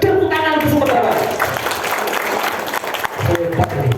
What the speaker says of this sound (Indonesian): Tepuk tangan ke Sumatera Barat.